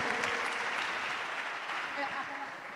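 An audience claps in a dense, steady patter of applause that fades slightly toward the end, with voices mixed in the crowd.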